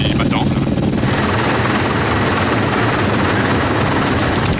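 Helicopter flying overhead near a French Foreign Legion ceremony, a loud steady rotor roar and engine whine filling the whole stretch, with faint voices under it.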